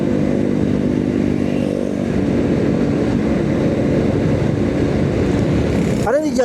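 A motorcycle rides with light throttle through busy afternoon traffic, a steady close engine hum under constant road and wind noise, with a brief higher whine near the end.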